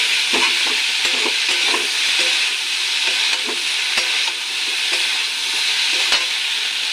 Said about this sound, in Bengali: মশলাটা মাখানো অবধি কষতে দিতে হবে